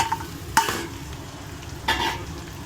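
Rice and garlic stir-fried in a hot pan: a steady sizzle with two sharp scrapes of a spatula against the pan, close and without talk.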